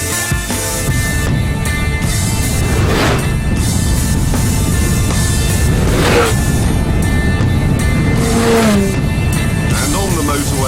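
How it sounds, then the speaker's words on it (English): A Ford supercar and a Pagani Zonda drive fast along a motorway, their engines and road roar filling the clip as a steady, loud drone with rising and falling swells as they accelerate, while someone speaks over the top. "on the motorway, the Ford and the Zonda were in a class of their own"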